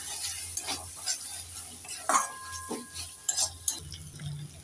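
A spoon stirs spices frying in a pan with ground poppy seed for a snail curry. Soft sizzling carries scattered scrapes and a few sharp clinks of metal on the pan, all fairly quiet and close.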